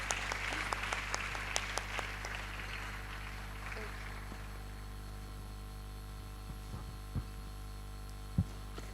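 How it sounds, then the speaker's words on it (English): An audience at a student mentorship programme inauguration applauds a vice chancellor, with a steady patter of clapping that fades gradually over several seconds above a constant electrical hum, followed by a few scattered thumps. "let's give him a round of applause."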